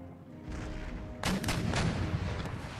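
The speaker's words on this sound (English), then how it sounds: "Let's get my howitzers to start focusing on their infantry block." Howitzer artillery firing in the Empire Total War battle game, a sharp loud blast partway through followed by rumbling booms and scattered reports over a steady battlefield din.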